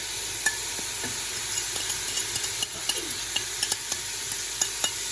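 A spatula stirs potato bhujiya with sesame seeds, chicken stock, black pepper and crushed chilli in a hot pan, giving repeated close scraping knocks in a loose rhythm over a steady sizzle.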